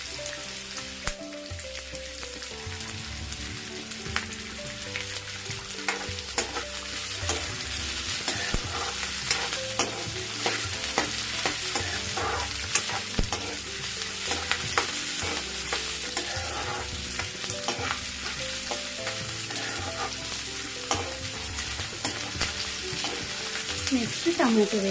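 Ginger garlic frying in a pan, a continuous bright sizzle with steady rhythmic scraping and clinks of stirring throughout, loud and close, with faint music underneath.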